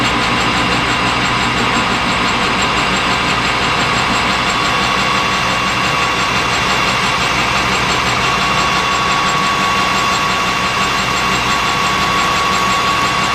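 A machine turns at about 600 RPM while making deburr arbors, giving a steady, loud mechanical hum with a constant whine that runs unbroken throughout and no voices.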